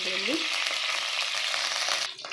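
Hot oil hisses and sizzles steadily in a heated kadai while chicken biryani is being cooked, loud and close throughout, with a brief clatter near the end.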